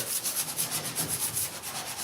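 Steady abrasive rubbing of sandpaper on an aluminum canoe hull, continuous with a gentle back-and-forth rhythm, close up and moderately loud.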